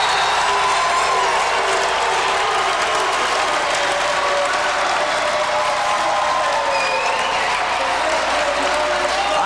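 A home crowd at a 1990 men's college basketball game against Kentucky Wesleyan roars and applauds after a slam dunk, a loud, sustained wall of cheering with voices mixed in.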